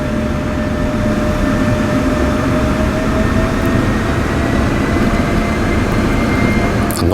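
An F-16 fighter jet in the DCS flight simulator taxis on the ground, its engine a steady, loud, unbroken roar with a thin high whine running through it.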